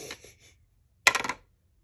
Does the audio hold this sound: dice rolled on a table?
yes